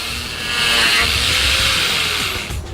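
A steady, loud electric sander whirs continuously with a bright buzzing hiss, holding nearly constant before easing off at the end.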